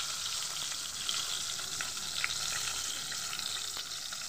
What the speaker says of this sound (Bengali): এবার আমি দিয়ে দেবো বেগুন। 3 পিস হবে, তো আমি 3 পিস দিয়ে আগে ভেজে নেব।